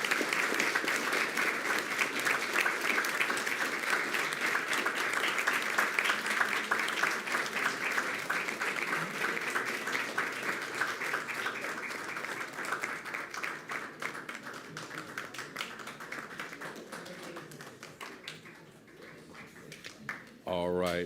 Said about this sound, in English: How about a round of applause as they enter?